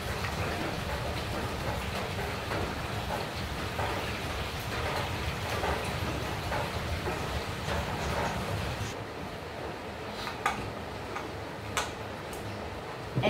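Light drizzling rain falling steadily outside a home, a soft continuous patter with scattered sharper drips and ticks, close by and alone.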